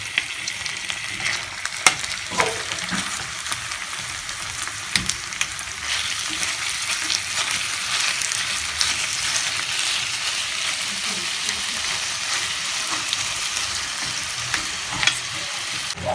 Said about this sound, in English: I'm trying not to make the beef stick to the pan